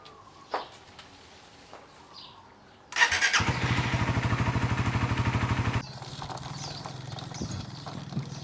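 A Suzuki Raider motorcycle engine starts after a few quiet clicks and runs with a fast, steady, loud idle pulse. After about three seconds it cuts off, leaving a quieter mechanical background.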